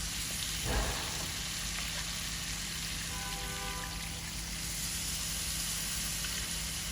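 Water is poured into fish curry frying in a pan, with a brief splash and then a steady, soft hiss of sizzling that carries on without pause.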